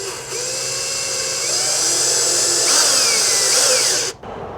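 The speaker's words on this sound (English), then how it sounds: "And now we're going to drill it." A power drill drives screws into original holes while a myQ smart garage adapter kit is mounted, giving a close, steady high-pitched whine for about four seconds before it abruptly stops.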